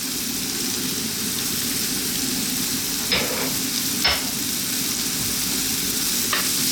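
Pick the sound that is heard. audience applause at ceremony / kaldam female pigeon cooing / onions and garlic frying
onions and garlic frying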